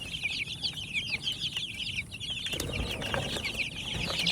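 Free-range chickens being moved to a new coop cluck and chatter steadily, with a flurry of wing flapping and scuffling partway through, close by and with no talk.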